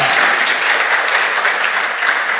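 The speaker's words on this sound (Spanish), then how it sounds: "Dale un aplauso fuerte al Rey" Loud applause from a church congregation during a sermon, a dense, sustained roar of clapping filling the whole moment without any speech.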